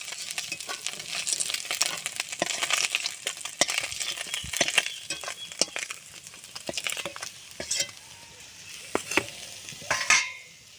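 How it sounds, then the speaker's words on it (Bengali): Tender bottle gourd frying in a pan in a village-style Bengali kitchen, a soft sizzle broken by frequent scraping stirs and light clinks, fairly quiet and close. "লাউটা ভেজে নেব"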